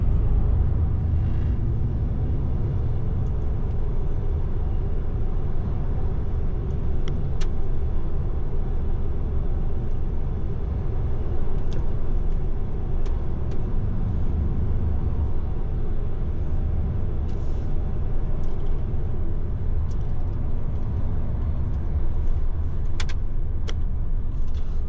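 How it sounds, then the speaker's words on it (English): Steady road rumble and tyre noise from a car driving in heavy motorway traffic on the M5, a continuous low drone heard from inside the vehicle with faint clicks and no speech. "you'll be getting a lot more traffic going down the M5 this morning due to the accident"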